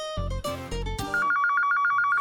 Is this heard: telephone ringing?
yes